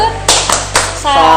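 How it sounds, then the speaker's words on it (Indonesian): Children give a rhythmic 'tepuk salut' clap, two sharp, loud claps a half second apart, followed by voices chanting along. "Yuk adik-adik kita kasih tepuk salut dulu."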